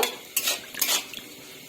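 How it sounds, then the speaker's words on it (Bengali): Vegetables being stirred in a pan after salt goes in for a spicy red curry: a few scraping, clinking strokes of a utensil against metal with quiet gaps between, close and moderately loud, no talk. "লবণ দিয়ে একটু আমি নেড়ে নেব।"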